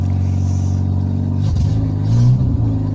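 A car engine without a silencer revs loudly just after starting, with the choke partly closed and a heavy dose of fuel. A rough, steady drone swells briefly partway through and stays close and harsh throughout.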